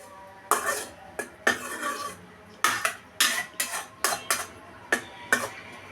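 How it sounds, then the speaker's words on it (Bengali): A spatula stirs spices with salt, turmeric, chili and a splash of water in a pan for a drumstick curry, making a series of sharp metallic clanks and scrapes in an uneven rhythm over a faint, quiet background. "দিয়ে দিচ্ছি একটু জল, নেড়ে চেড়ে কষিয়ে নিব।"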